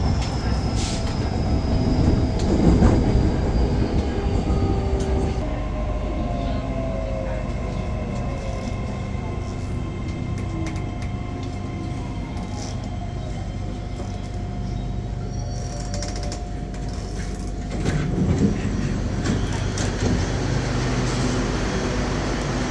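RHN diesel railcar running as train 76 on a Thai railway, with a steady rolling rumble of wheels on track throughout, a long drawn brake or wheel tone through the middle, and a louder clattering surge near the end.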